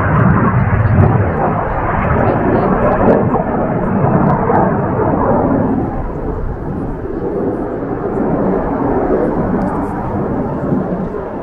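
Aircraft pass overhead at an air show, a loud, continuous jet roar that rises and falls gently for several seconds, with no talk over it.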